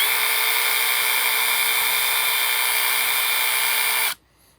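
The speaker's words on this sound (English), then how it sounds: "allows you to move the sanding belt back and forth a little bit while you're spinning it" DeWalt 18-inch band file running its sanding belt, a loud, steady high-pitched motor whine that holds constant for about four seconds and then cuts off abruptly into near silence.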